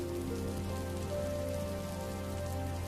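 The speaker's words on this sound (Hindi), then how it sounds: "ये बारिश तो बढ़ती ही जा रही है" Heavy rain pours over a farming village, a continuous close hiss of drops drumming on surfaces with no pauses, alone and fairly quiet overall with a low steady hum beneath.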